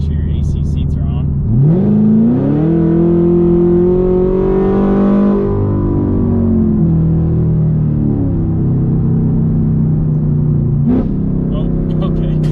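A 2018 Chevrolet Camaro ZL1 with Kooks long tube headers and no mufflers roars past, its loud engine note climbing under acceleration, holding a sustained howl and then easing off as it passes, with brief voices at the start and end.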